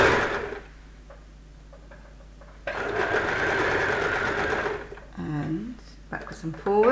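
Domestic sewing machine stitching a kimono robe seam backwards and forwards: a steady whirring run, a pause, then a louder sustained burst of stitching, with someone talking at the start and end.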